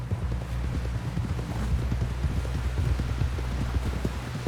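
Horse hooves clip-clop steadily in the video game Red Dead Redemption 2, a continuous rhythmic trot under a dense bed of rain and ambient noise, with no talk.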